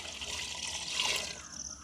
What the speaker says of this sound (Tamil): இந்த கிழங்குக்கு வந்து நாங்கள் அளவான தண்ணி விடுவோம்.